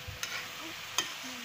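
Vegetable curry for a vegetarian banana-flower dish stirred in a pan, a soft background sizzle broken by two sharp scraping clacks of the spoon against the metal, close and brief.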